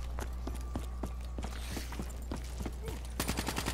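Gunfire in the Black Ops 3 Zombies map Shadows of Evil: a rapid series of quiet, evenly spaced shots over a low hum, with a denser burst of fire at the end.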